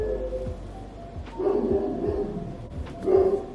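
A pet dog barking indoors, a few short moderate barks and yips spread across the moment against a low steady room hum.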